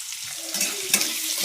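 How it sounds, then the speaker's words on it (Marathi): Cumin and mustard seeds hit hot oil with a bright, close sizzle that holds steady, swelling briefly twice as the seeds spit and crackle. "आपण जिरी मोहरी टाकतो तेलामध्ये"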